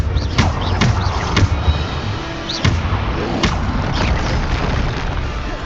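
Bombarda blasting spell detonating in Hogwarts Legacy, heard as a series of sharp, punchy thumps and bursts spaced irregularly over steady combat noise, loud and close.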